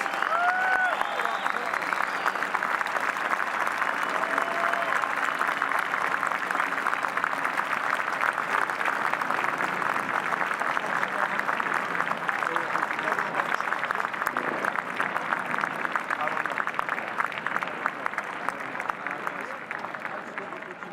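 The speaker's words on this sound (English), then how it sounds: "how about a big round of applause for all of this year's medal winners?" Sustained applause from a large ceremony audience honoring FDNY medal winners at the annual Medal Day, dense steady clapping filling the whole stretch without a break.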